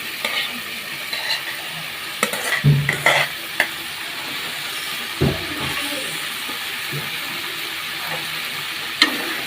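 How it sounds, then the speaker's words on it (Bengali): Mixed vegetables with soya chunks stir-fried with a little water in a pan, a steady steamy sizzle with scattered scrapes and clacks of the spatula, moderately close, no voices. "আর একটু জল দিয়ে ভালো করে কষাই নিতে হবে তিন থেকে চার মিনিট ভালো করে কষাই নিতে হবে"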